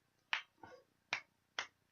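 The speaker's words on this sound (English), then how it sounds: "The infinite finger snap." Four sharp finger snaps at uneven spacing, crisp and close, alone with no talk.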